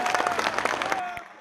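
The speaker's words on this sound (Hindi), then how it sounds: "हम चाहते हैं उनके सम्मान में एक बार ये ताली बजाएं।" An audience claps in a short burst of dense applause at a live stage event, loud at first, then thinning and fading out within a second or so.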